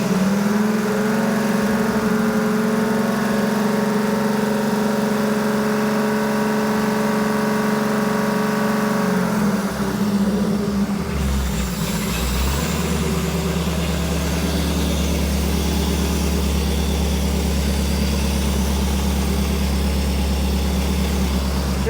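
A 1975 Ford F150 with a 390 FE V8 running at a steady fast idle of around 2,500 RPM, a loud, continuous engine drone with a brief shift in tone partway through, with no talking.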